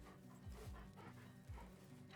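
A dog pants in a video game, with quick rhythmic breaths repeating close and faint across the whole short stretch.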